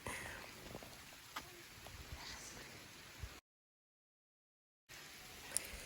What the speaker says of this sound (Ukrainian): Знову йде дощ.